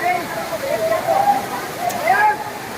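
Water falling at Bee Fall waterfall in Pachmarhi, a continuous rushing roar with a voice speaking over it.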